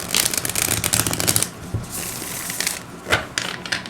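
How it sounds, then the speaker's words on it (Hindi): Tarot cards being shuffled by hand, a close dense riffle and flutter of cards with a pause and then a few softer slaps and rustles. "Last shuffle."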